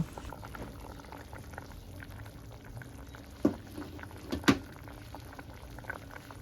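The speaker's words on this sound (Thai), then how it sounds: "เวลาใส่กุ้งต้องให้น้ำแกงเขาเดือดจัดแบบนี้เลย" Thai sour curry broth with shrimp at a hard boil in a pot on a gas stove gives a steady low bubbling churn, with a couple of sharper pops and splashes standing out partway through.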